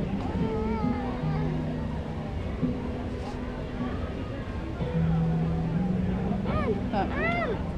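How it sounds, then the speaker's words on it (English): A cat meows several times, with rising and falling calls close by, while people talk and a low engine hums steadily underneath. "Max, it's a cat"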